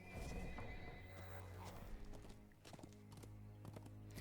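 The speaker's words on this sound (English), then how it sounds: "I do like that little sound the horse makes when you mount the horse" A horse in a video game whinnies as it is mounted, with hoof clops and soft thumps under a layer of game music and ambience.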